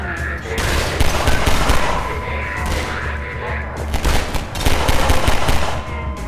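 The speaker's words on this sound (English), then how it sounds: "Someone shooting at me." Gunfire in Half-Life 2 comes as loud bursts of rapid automatic shots, close and dense, with several volleys across the stretch and background game noise between them.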